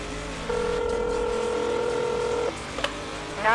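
A phone on speaker dialing 911 in a moving car: one long steady dial tone, then a couple of short key beeps, with traffic rumble underneath.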